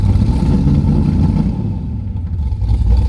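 A car engine with a carburetor runs rough while still cold, with the choke on and extra gas fed through. It sounds like a loud, steady, uneven idle with a clattering edge, heard up close with no talking over it.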